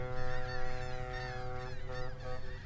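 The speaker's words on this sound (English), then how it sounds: "I didn't expect that seagull sound" Seagull cries from Euro Truck Simulator 2 with its Scandinavian expansion: steady, harmonic squawking calls that carry on continuously and fairly loudly over a low droning background.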